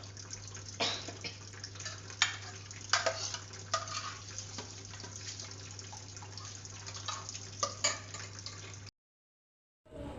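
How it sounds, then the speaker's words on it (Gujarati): Soaked rice and urad dal batter being stirred by hand for dosa, giving wet squelching and sloshing with small irregular clicks over a low steady hum, fairly quiet, then a sudden cut to silence near the end. "ચોખા અને અડદની દાળને એકદમ મિક્સ કરી દીધું અને આમ હલાવી નાખ્યું"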